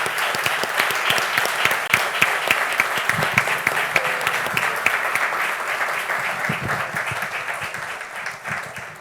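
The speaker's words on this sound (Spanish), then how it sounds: "les pido un aplauso para don Alfredo." Audience applause for a minister at a social development event, a sustained, even wave of crowd clapping lasting several seconds and gradually thinning at the close.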